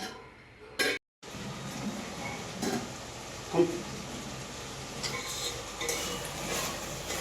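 Chicken being stirred in a cooking pot for a gongura chicken dish, with soft repeated scraping and light clinks of a utensil against the pot, close and fairly quiet, with a brief pause partway through.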